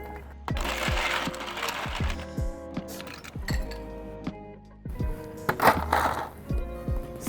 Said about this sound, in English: Fill our tin with ice.